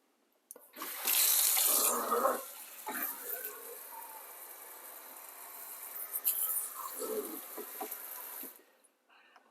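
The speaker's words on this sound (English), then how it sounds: "the next step will be to rinse the sink out and then dry it" Tap water gushes and splashes into a sink being rinsed after a scum and mineral deposit remover, with bursts that start and stop, then trickle off to quiet at the end.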